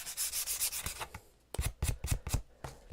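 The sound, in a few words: sanding the edges of a wooden piece to distress it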